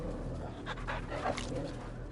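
A dog being petted in the video game Final Fantasy 16 whimpers and pants softly in short bursts, close by over a steady low hum.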